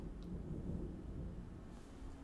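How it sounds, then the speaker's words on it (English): Quiet, distant thunder rumbles low and steady through a storm, faint and unbroken for a couple of seconds without any voices. "That is bad. That is some bad thunder."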